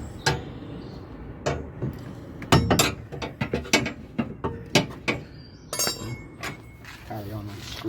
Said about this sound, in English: It's held under the van with this little securing screw. So what we do is unscrew it.